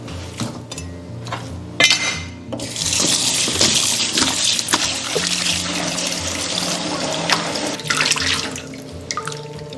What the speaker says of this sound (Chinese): 我们把牛腩清洗干净